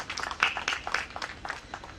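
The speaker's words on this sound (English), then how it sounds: "Big round of applause, ladies and gentlemen." Scattered applause from a crowd, a steady patter of claps throughout, moderately loud and fairly close with no talking over it.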